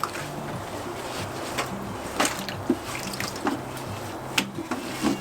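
Laundry being washed by hand in water at an off-grid setup: soft continuous sloshing with occasional splashes and drips, close and moderate in level, with no talking.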